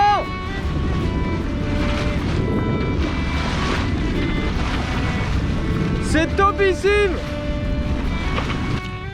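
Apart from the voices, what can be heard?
wind on a sailboat under sail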